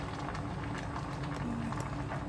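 Carbonara white sauce boiling in a pan gives a soft, steady bubbling that stays quiet and even throughout, with no voices.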